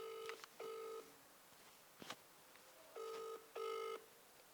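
Telephone call ringing, heard as quiet, repeated electronic ring tones in short bursts with a gap in the middle, over faint background noise and no speech.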